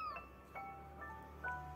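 A cat meows a few times in short, faint, high calls, heard close against a quiet background.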